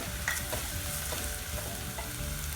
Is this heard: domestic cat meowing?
no